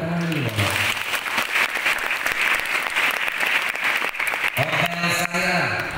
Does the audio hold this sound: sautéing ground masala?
no